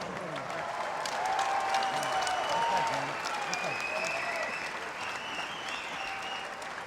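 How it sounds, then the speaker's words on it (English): Crowd applause and cheering for two boxers called to the center of the ring as the fight decision is about to be read, a broad steady wash of clapping that swells midway and then eases, with some voices mixed in. "Have a nice round of applause for both of these fighters."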